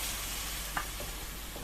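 Shredded cabbage with turmeric and salt sizzles in a frying pan, a dense, continuous hiss with a brief stir-scrape partway through.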